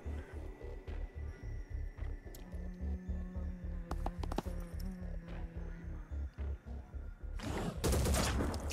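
Rapid shotgun fire in a video game, a dense run of regularly spaced blasts with a few sharper cracks mid-clip and a louder burst near the end.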